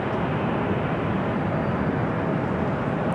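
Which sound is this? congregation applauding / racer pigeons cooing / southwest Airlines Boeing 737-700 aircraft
southwest Airlines Boeing 737-700 aircraft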